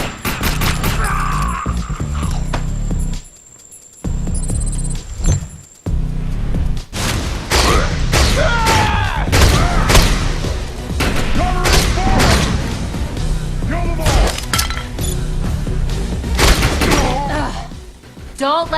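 Enemy gunfire in the Defiance shooter game, dense bursts of shots and booms crackling almost continuously, loud and close, with a short lull early on before the firefight resumes.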